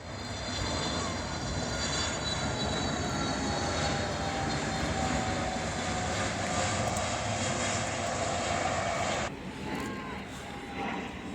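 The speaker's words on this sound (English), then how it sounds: "We are expecting a 727 to fly by" A Boeing 727 airliner flies past at the Farnborough Airshow 2016, its loud, steady engine roar filling the whole stretch before easing slightly near the end.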